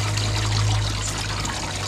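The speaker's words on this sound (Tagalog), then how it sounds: "Ato na ni siya hugasan para ato na ni siya sugdan og pagluto." Water runs in a steady close stream while frog meat is washed for cooking, a continuous trickling pour with a low hum underneath.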